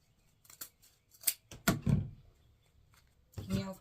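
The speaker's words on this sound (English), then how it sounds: "Snip it through." Scissors snipping through 21-inch wreath mesh, several separate sharp cuts and rustles of the mesh up close, with quiet gaps between them.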